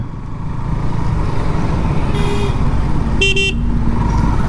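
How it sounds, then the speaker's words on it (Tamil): Congested road traffic, with a constant loud rumble of engines close by, broken by two short horn honks, one about midway and a sharper, louder one shortly after. "ஏன் இவ்வளோ டிராஃபிக்கு"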